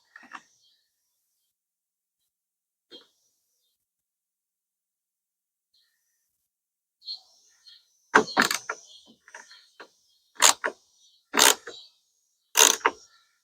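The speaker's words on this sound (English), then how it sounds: "I'm going to start this by hand just because it's starting to pry out a little bit there." Plastic clips on a Jeep Patriot front turn signal are pried loose by hand: faint scattered clicks at first, then a run of sharp, close cracking snaps and creaks.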